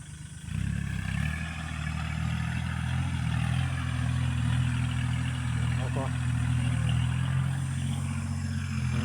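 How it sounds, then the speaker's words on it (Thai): On a farm field being levelled, a small tractor runs with a low, steady, rumbling drone, its engine held at a constant idle-like pace while someone talks over it. "ดูรถไถครับ"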